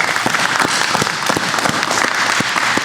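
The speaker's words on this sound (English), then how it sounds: "Let's give Sister Michelle Wall another applause." A class audience gives Sister Michelle Wall a round of applause, with loud, continuous clapping from many hands held close and even throughout.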